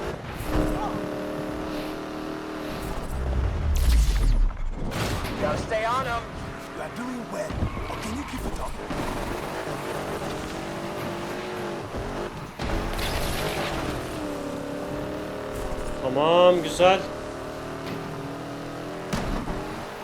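Lamborghini Aventador race car in Need For Speed Unbound roaring at high revs with nitro boost, engine pitch climbing and swelling in loud bursts, while someone talks over the racing.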